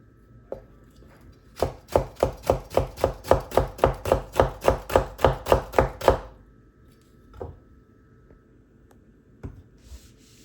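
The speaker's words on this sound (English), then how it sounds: "So I will cut this capsicum." An 8-inch Butterfork chef knife slices a capsicum on a cutting board in a steady run of about fifteen crisp, evenly spaced chops, then a few scattered cuts, close and alone.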